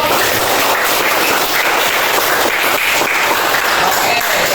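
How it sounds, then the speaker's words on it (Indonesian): Classmates clap together in a classroom, a steady, dense burst of applause that fills the whole moment at close range with no talking over it. "Tepuk tangannya dong."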